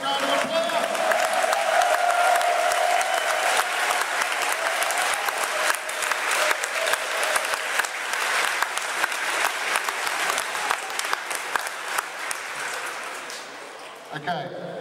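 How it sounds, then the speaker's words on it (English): A crowd at a fan convention for My Little Pony bronies gives long, loud applause mixed with some cheering, clapping dense at first, then thinning and fading before a sudden cut at the end. "give yourselves a big round of applause"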